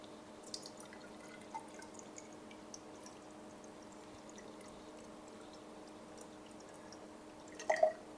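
Distilled water being poured and measured into a container, heard as a faint, quiet trickle with a few soft drips and a small splashy burst near the end.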